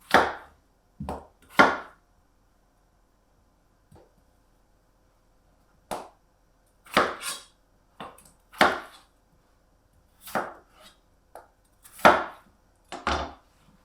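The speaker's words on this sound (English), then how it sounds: "So that potato I only cut into 3 bits." A knife cuts potatoes into pieces on a board in the kitchen, with a dozen or so sharp, close chops spaced irregularly between silences.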